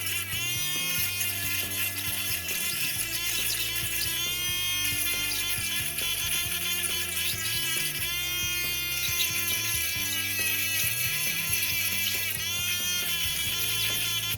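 A Dremel rotary tool fitted with a 3000-grit Nova polishing tip buffs a stone, giving a steady, high-pitched buzzing whine that runs continuously at close range with a musical backing underneath.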